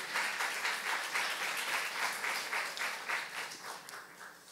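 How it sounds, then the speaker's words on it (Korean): A church youth-service congregation claps together in sustained, even applause that fills the room at close range, with no voice over it. "박수며 하나님께 영광 돌리시기 바랍니다"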